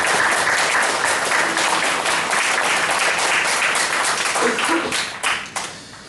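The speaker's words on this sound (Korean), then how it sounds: "우리 다시 한번 뜨거운 박수로 환영하도록 하겠습니다" A Sunday worship congregation gives warm, steady applause to welcome a pastor, a dense wash of clapping that thins out and fades near the end.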